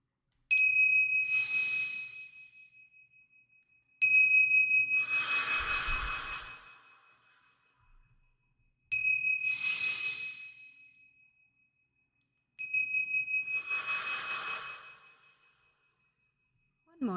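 A bright chime rings four times at regular intervals to cue breathing, each strike decaying slowly, and a long audible exhale follows each ring.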